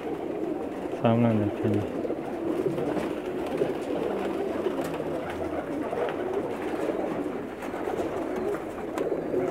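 Sialkoti pigeons coo steadily in a crowded loft, a low murmuring chorus of many birds throughout, close and continuous, with someone speaking briefly near the start.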